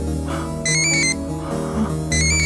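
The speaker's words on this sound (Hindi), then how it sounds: "यहाँ किसी फोन की आवाज आ रही है।" A mobile phone ringtone plays in an alley, two loud bursts of a bright, repeating electronic melody separated by a short gap, heard alone without voices.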